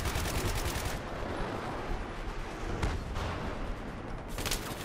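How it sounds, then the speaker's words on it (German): Heavy gunfire and explosive blasts in a Battlefield 3 match, dense and continuous with bursts of rapid shots, a tank firing somewhere in the distance amid the battle noise. "Und irgendwo schießt ein Panzer."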